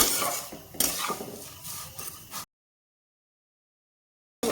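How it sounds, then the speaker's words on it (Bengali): Vermicelli frying in a pan for sweet jorda shemai, stirred with a utensil that scrapes and clinks against the metal for about two seconds, then silence before a brief return. "এভাবে নেড়ে চেড়ে সুন্দর করে আমার তো এখানে আমার সিমুইটা সুন্দর করে নাড়ে চেড়ে নিয়েছি"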